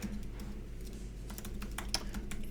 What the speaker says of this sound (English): I do believe if I type in YouTube/Mary Bicknell